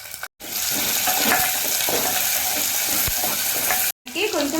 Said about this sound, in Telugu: ఉల్లిపాయలు అనేవి బ్రౌన్ కలర్ వచ్చినంత వరకు వేగించుకున్నాను.